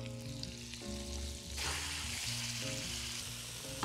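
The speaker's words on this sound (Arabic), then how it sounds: "هبتدي أول حاجة في ووك سخنة، هحط معلقة زبدة هحط معاها البطاطا" Potatoes hit butter in a hot wok and set off a close, steady sizzle that starts partway through and continues over quiet background music.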